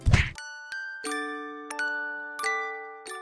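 A notification bell sound effect rings out as a series of bright, clear chime dings, about five strikes spaced roughly evenly, each ringing and fading before the next, with no talking.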